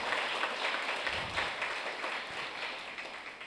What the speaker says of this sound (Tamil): நாம் கைத்தட்டி நம்முடைய நன்றிகளையும் வாழ்த்துக்களையும் தெரிவிப்போம்.